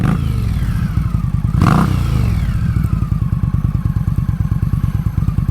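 An Indian Scout Bobber motorcycle engine idles loudly and close through a modified stock exhaust, a steady rapid thumping pulse with a brief rev blip partway through.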